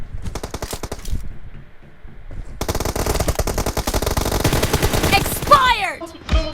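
Rapid automatic gunfire in a competitive shooter video game match, loud bursts of rattling shots that stop briefly and resume, with a faint voice and a few sweeping electronic effects near the end.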